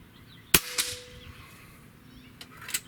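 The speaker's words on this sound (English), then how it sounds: "All right, let's do some shooting here." Gunsan ASYA PCP .22 caliber air rifle firing outdoors: two sharp, close cracks a quarter second apart, then two fainter snaps later, with quiet ambience between.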